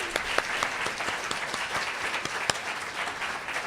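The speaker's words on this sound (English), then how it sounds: "Let's give them a wonderful round of applause for hosting us." Audience applause at a civic gathering held at El Centro de la Raza, brisk clapping from a sizable room with a few sharper individual claps standing out, steady for the whole few seconds.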